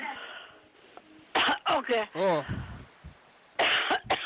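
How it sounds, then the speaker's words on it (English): Grandma gives a few short, close coughs and throat clears in bursts, and speech is heard before and between them. "do you have a cough?"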